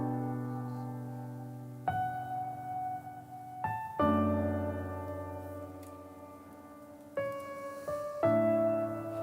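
A piano plays a slow, emotional melody supported by sustained harmony chords, several chords changing in sequence with clear, resonant attacks and long ringing decay, played alone with no talk.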